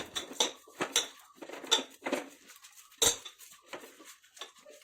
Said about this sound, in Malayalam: ഇനിയിപ്പോൾ നമ്മുടെ ഈ മസാല മിക്സൊക്കെ കൂടി നന്നായിട്ട് നമുക്കൊന്ന് മിക്സ് ചെയ്തെടുക്കണം